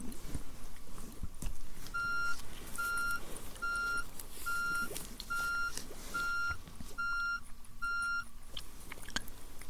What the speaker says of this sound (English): How many beeps was that, amoeba?